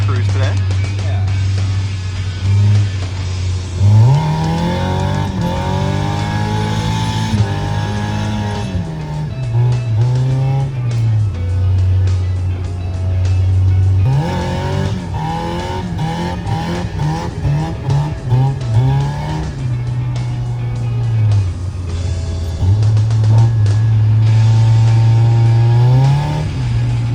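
A Nissan 240SX cruises along a narrow one-lane road past snowbanks, its engine droning loudly and rising and falling in pitch through gear changes, with people talking inside over the engine.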